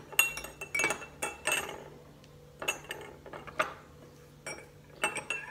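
A spoon clinks and clatters against a bowl or dish while being rinsed in dishwashing water, with several sharp metallic knocks spaced irregularly between quiet gaps.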